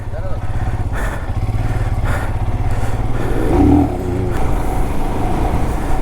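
A Royal Enfield Scram 411 motorcycle engine thumps steadily at close range, loud, with a brief rev swelling midway before settling back to an even idle.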